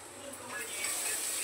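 Pithla batter of gram flour hits hot tempering in a kadhai, giving a close, steady sizzling hiss that swells slightly over a brief moment.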